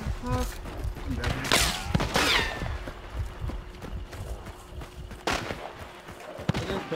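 Gunfire in the video game Hunt: Showdown, with several sharp shots and bursts over a noisy game soundscape that also holds horse-like sounds, while a player talks during the fight.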